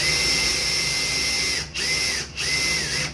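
A power drill countersinks a hole in wood, its steady high-pitched whine running close and loud, briefly cutting out twice near the end as the bit is eased off and re-engaged.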